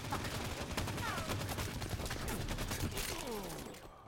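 Rapid bursts of gunfire and fusillades in Halo 5 arena multiplayer, dense overlapping shots that run continuously at a steady loudness with some faint talk mixed in.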